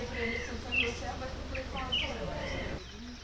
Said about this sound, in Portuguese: Os pássaros também estão por aqui, voluntários no replantio da floresta.